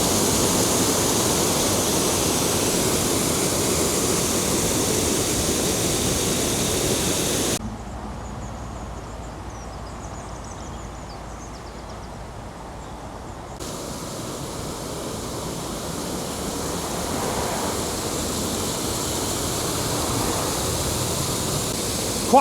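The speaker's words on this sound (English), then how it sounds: "the water absolutely bellowing down into the water below the lock" Floodwater on the River Trent roars steadily as it pours down below a lock, a loud continuous rushing wash that dips briefly in level midway before surging back to full strength.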